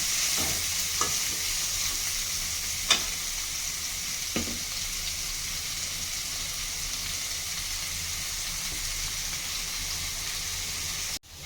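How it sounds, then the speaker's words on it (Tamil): Onions frying in a pan for a Kerala-style fish curry, a steady close sizzle with a few soft stirring clicks, running evenly without speech until it cuts off at the end. "வெங்காயம் வணங்கிருச்சு"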